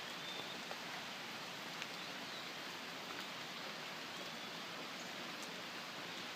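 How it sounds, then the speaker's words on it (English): Steady, even rain falls outdoors as a continuous soft hiss with a few faint drop ticks and no voices. "You see the rain?"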